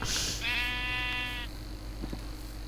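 Sheep bleating in the Minecraft video game, a single drawn-out wavering bleat heard clearly over steady background game ambience.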